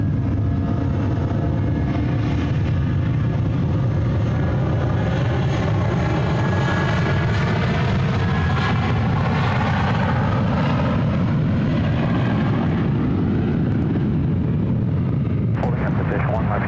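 A United airliner roars down runway 1 left at SFO on takeoff, a loud sustained engine rumble with shifting tones, while radio and spoken voices carry over it.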